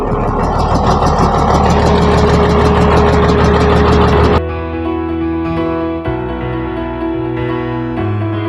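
A Komatsu D155-6 bulldozer engine idles loud and close with a steady rumbling drone and rattling clatter that drops abruptly to a smoother, quieter hum partway through.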